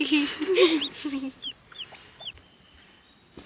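A newly hatched chick peeps in thin, high chirps among clucking broody hens, with the hens' louder calls at the start and the chick's soft peeps continuing close by as the clucking fades.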